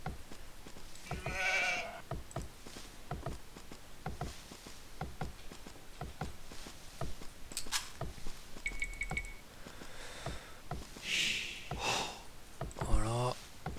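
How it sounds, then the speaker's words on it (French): Sheep bleat in the Age of Empires 2 strategy game, short game-sound bleats mixed with other in-game clicks and effects, while players talk over the match. "j'ai trouvé 2 gros moutons"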